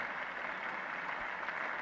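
Dense, steady applause from a huge cricket crowd at Lord's in 1972 for Greg Chappell, a continuous even roar of clapping filling the whole short stretch with no talk.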